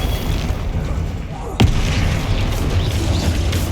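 A Confringo spell explodes in Hogwarts Legacy on Xbox Series X, one sudden boom partway through over a steady wash of game background noise.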